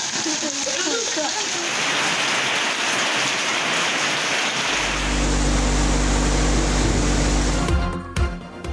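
Rain falls steadily in Pakistan as a dense, continuous hiss, joined midway by a deeper low rumble.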